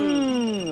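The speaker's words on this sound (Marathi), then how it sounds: "फोन आलाय, थांब." A telephone rings indoors in a home scene with a single loud, steady electronic ringtone tone and no talking over it.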